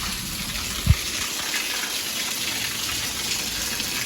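Floodwater in Junagadh, India, rushes and gushes into a house in a steady, loud, continuous flow, with a single dull thump early on.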